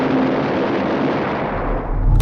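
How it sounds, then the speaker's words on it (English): A loud, continuous roar of heavy gunfire from the film Spider-Man 2, a dense rumbling barrage that swells and booms toward the end. "We only hear the roar of gunfire that they couldn't possibly survive."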